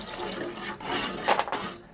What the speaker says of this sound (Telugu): ఇప్పుడు ఇందులోకి 3కి 6 గ్లాస్ వాటర్ తీసుకోవాలి